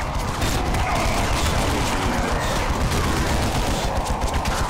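Dense, continuous gunfire rages in the video game Dawn of War 2, loud rapid bursts of automatic weapons overlapping without pause, with no clear voice standing out above the barrage.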